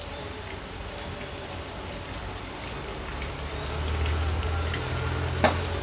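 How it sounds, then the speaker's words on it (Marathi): Pea cutlets fry in hot oil with a soft, steady sizzle and faint crackling, heard close but quiet, with a short clatter near the end and no talk. "हे कटलेट आपण फ्राय करत होतो"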